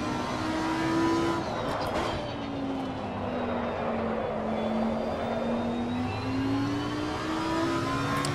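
GT3 race car engine in Assetto Corsa Competizione, a steady high-revving drone held through the lap with slowly rising and falling pitch as the car accelerates and shifts, continuous and close throughout with no talk.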